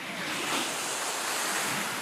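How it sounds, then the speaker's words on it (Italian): Sea waves break on the shore in a steady, broad, continuous wash of surf with some wind noise. The sound is moderately loud, with no voices. "Niente più dolce della musica del mare."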